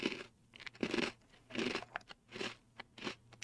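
Crunchy Oreo Mini cookies, the Mexican-made version, being bitten and chewed close up, with a repeating series of crisp crunches in steady bursts and no talking.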